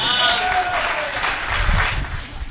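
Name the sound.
audience clapping applause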